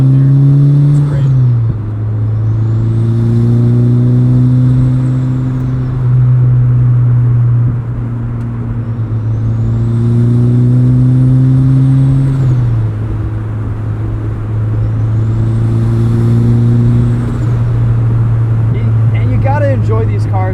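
A 2003 turbocharged Mazda Miata engine drones loudly as it accelerates through repeated gear shifts, a high turbo whine rising with each pull, with exhaust pops crackling near the end.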